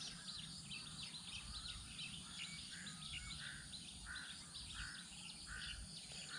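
A small bird chirps repeatedly in a steady series of short, high tweets, faint and somewhat distant over a constant outdoor background hiss with insect-like buzzing.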